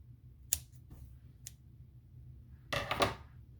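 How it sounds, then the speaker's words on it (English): Scissors snip excess yarn from a knitted neck warmer, a few sharp, close, quiet clicks separated by pauses, ending in a brief cluster of louder snips, with no talking. "you can take scissors and cut the excess yarn"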